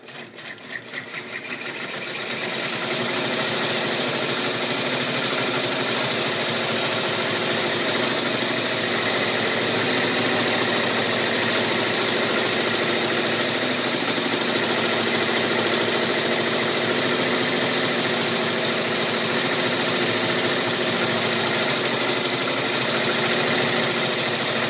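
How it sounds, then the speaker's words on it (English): A sewing machine runs steadily while triple stitching a 3D troll girl peeker applique in place, a loud, close, continuous motor whir with a fast rhythmic needle chatter that holds unbroken after a brief start-up, with no talking. "now we're going to triple stitch this in place"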